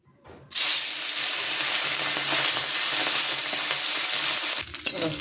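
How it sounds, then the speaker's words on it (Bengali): Puti fish frying in hot oil: a loud, dense sizzle bursts in after a brief quiet start and holds steady and close, with crackling throughout and no voices. "আগে তেল দিয়ে নেবো, মাছটা ভেজে নেবো"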